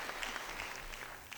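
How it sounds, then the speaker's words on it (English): Audience applause at a WEBCON DAY 2019 business conference, a brief steady patter of clapping from a crowd, moderately faint and continuous. "Yes, a round of applause."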